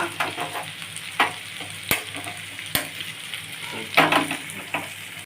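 Vegetables sizzle and crackle in a hot karahi, with occasional scraping stirs and sharp clinks of a utensil against the metal. No talking.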